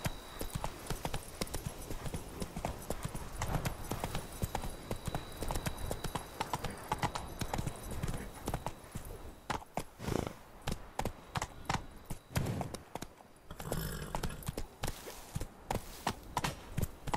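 Horse hooves clip-clop steadily at a walking pace in The Witcher 3 video game, loud and close, with game ambience and a little music mixed underneath.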